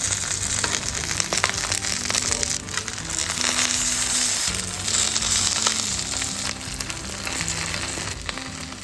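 Prawns wrapped in banana leaf fry steadily in a pan, giving a loud, continuous sizzle and crackle that holds throughout without any talk.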